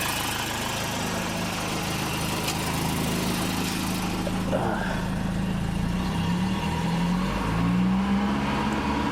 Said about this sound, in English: Raise the revs again.